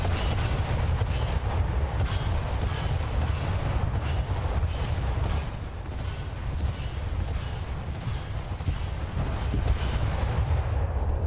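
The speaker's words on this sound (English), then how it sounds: "We've got, of course, our big artillery launchers" Naval artillery launchers fire in a steady, dense barrage of deep booms and blasts during a War Thunder naval battle, loud and continuous with no talking.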